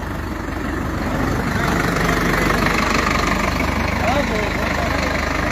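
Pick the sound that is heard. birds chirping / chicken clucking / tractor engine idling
tractor engine idling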